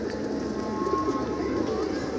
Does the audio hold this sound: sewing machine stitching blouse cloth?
no